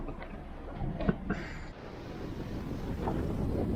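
Strong wind buffets a sailboat at sea on a solo crossing from Terceira to Les Sables d'Olonne, a steady broadband roar with gusty bumps and water wash, close to the microphone and without talk.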